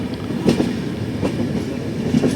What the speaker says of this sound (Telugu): ఇప్పుడే మన ట్రైన్ వచ్చేసి ఝాన్సీ జంక్షన్లోకి అయితే ఎంటర్ అవుతుంది.